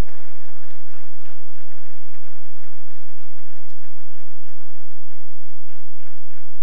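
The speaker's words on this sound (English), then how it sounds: "give the great RA and his amiable wife a standing ovation" A large audience at a university convocation ceremony gives a standing ovation, heard as a steady, dense wash of distant clapping that keeps an even level throughout.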